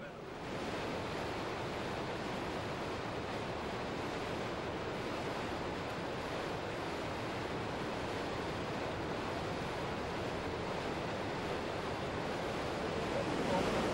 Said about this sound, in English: waves breaking over the seawall